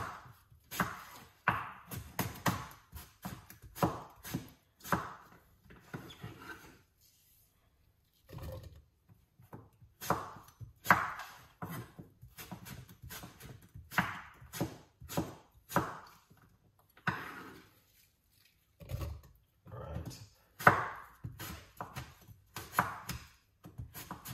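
Knife chopping a medium-sized green apple on a board, a steady run of crisp, close taps in quick bursts with brief pauses between, with no voices.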